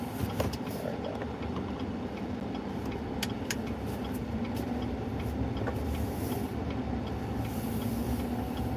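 Steady low rumble of road and engine noise inside a moving car, continuous and even throughout, with faint rattles and no talking.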